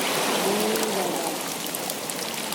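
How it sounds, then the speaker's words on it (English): Steady rain pours down in a dense, even hiss, close and continuous, with no pauses or other sounds standing out. "Rainy weather."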